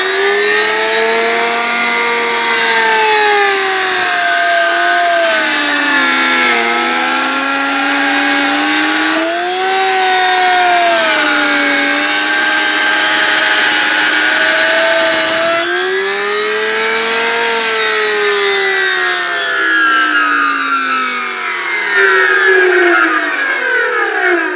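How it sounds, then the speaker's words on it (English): A router cuts handle recesses into the short sides of a wooden bee hive box, its loud high-pitched motor whine rising and falling in pitch as the bit bites into the wood, continuous and close. "I only cut handles on the short sides of the box, so I'm going to start up the rotor now."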